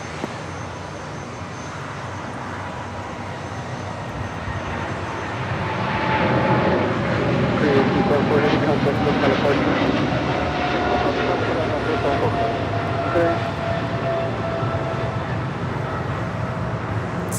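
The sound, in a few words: Boeing 777 freighter jet departing Los Angeles airport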